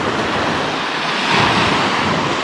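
Steady roar of surf washing onto a beach, broad and continuous, with a slight swell in loudness midway; no voices.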